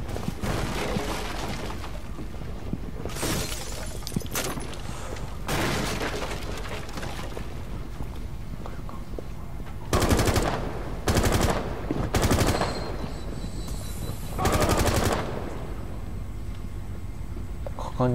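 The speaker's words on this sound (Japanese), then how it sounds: "わ、発砲されてる。" Gunfire in the Rainbow Six Siege video game comes in repeated rapid bursts of automatic fire, several loud volleys separated by short gaps, while a player talks over the action.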